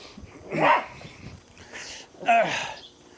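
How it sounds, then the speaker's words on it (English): A small blind dog gives two short barks, the first around half a second in and the second a couple of seconds later, fairly close against a quiet background. "Here's Maggie, our little blind dog."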